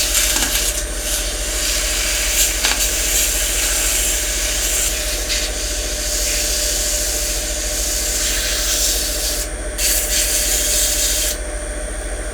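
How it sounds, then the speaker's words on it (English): Sandpaper rubs steadily against a spinning wooden box lid on a wood lathe, a continuous close hiss over the lathe's low motor hum, with a few brief breaks in contact. "come in and sand it a little bit"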